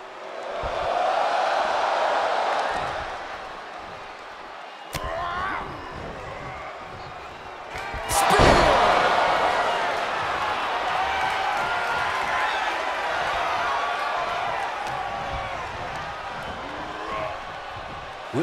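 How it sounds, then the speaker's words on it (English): A large arena crowd in WWE 2K24 roars and chants in unison, counting along in a wrestling match, rising and falling over several seconds, with a loud slam partway through. "Listen to this crowd count the next one in."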